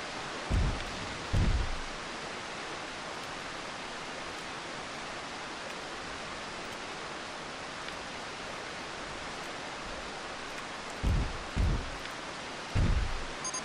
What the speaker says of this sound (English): that water sound is getting so annoying